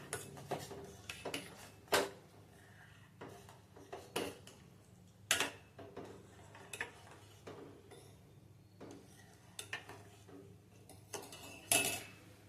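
A spoon stirs hot milk into sweet potato kheer in a metal pot, giving irregular close clinks and taps against the pot sides over quiet background, no voices.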